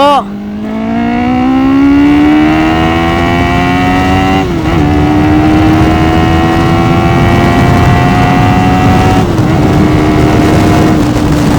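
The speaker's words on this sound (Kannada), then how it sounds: "ಏನ್ ಕಿರ್ಚ್ಕೊಂತೈತೆ ಗುರು. 400cc ಗಾಡಿ ಇದು." Honda CB400 Super Four 400cc motorcycle, a Japan-import Hyper VTEC Spec III, revs hard and loud, engine pitch climbing steadily with brief dips around gear shifts, sustained and close throughout.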